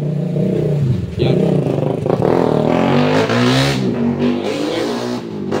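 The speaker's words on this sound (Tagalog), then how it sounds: "ang ingay ng motor langya" A loud motor drones and revs steadily, its pitch rising and falling, with clattering and scraping mixed in, during repair of a dead Cignal digital TV box.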